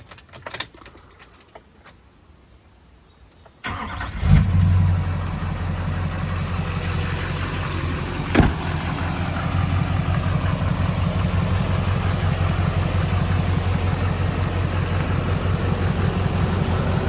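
Faint rustling and key jangles come first, then a 2008 Duramax diesel truck engine cranks and fires up, settling into a steady, loud, close-up diesel idle that runs on continuously.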